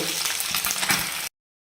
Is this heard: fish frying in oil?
yes